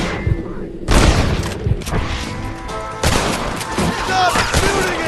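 Gunfire erupts in Red Dead Redemption: booming gunshots and scattered volleys burst through a busy game soundscape, with heavy shots around the first second and third second and steady crackle between.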